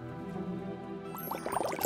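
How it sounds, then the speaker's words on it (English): Water is poured into a Magic Mixies toy potion cauldron, a faint trickle and splash rising near the end after a quiet start, with no talk over it. "Start your potion by adding water."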